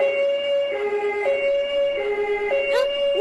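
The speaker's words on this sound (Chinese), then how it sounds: "救护车！" Ambulance siren wailing in a two-tone pattern that alternates high and low pitch about every second, loud and clear, played back as a sound-guessing quiz for children.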